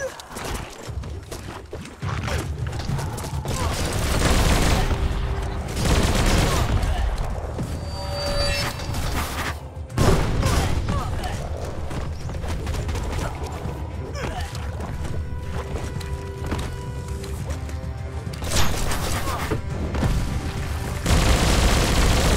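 Gunfire and explosive booms from the video game Biomutant during a fight with village attackers, dense bursts of shots over a constant game soundtrack, with a player talking at times.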